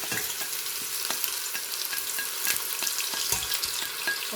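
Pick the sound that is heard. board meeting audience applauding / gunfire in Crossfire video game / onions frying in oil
onions frying in oil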